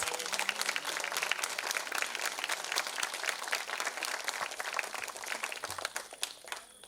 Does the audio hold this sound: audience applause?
yes